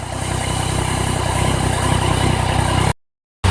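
A Yamaha FJ-09 motorcycle engine idles steadily and close by after warming up, a continuous even rumble with no voices, cutting out briefly near the end before resuming.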